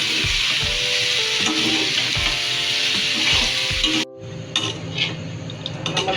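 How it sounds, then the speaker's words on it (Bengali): Chicken and potatoes fry in oil with a strong sizzle and scraping stirs against the pan for about four seconds, then it cuts to quieter kitchen clinks and a low hum, with music in the background. "এর মধ্যে আমরা কোনো পানি দিচ্ছি না, এটা শুধু তেলের মধ্যে আমরা এটা ভাজবো।"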